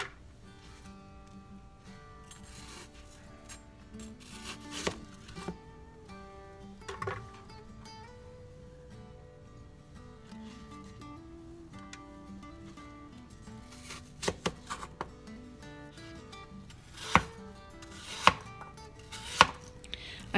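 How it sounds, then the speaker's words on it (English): Apples being sliced with a knife, about an eighth of an inch thick, for an apple crunch pie: steady soft cuts with several sharp, louder knife strikes against the board toward the end, close and with no talk. "I'm slicing these apples 1/8 of an inch thick."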